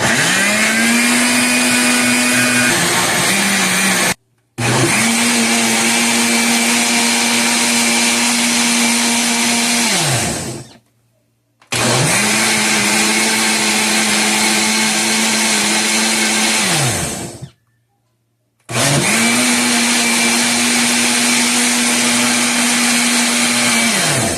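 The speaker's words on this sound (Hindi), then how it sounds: "अब हम इसको ब्लेंड कर लेते हैं।" Kitchen blender whirring through watermelon and apple juice seasoned with black salt and white pepper, a loud, close motor drone running in three long bursts separated by short pauses, the pitch winding down at each stop.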